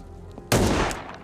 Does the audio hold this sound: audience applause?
no